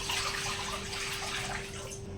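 Water splashes and runs as cut cabbage and Malabar spinach are washed in a kitchen, a soft, close sloshing and trickling with a faint steady hum underneath, no voices.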